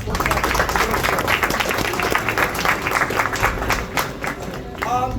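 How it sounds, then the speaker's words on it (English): Clapping from an audience at a welcome home lunch, continuous and fairly loud throughout, with a voice rising near the end. "Round of applause for Coach Doug"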